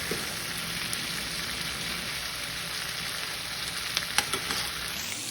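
Broccoli and mixed vegetables fry in sauce for broccoli Manchurian, a continuous close sizzle with light stirring scrapes and a few soft clicks throughout, no talking.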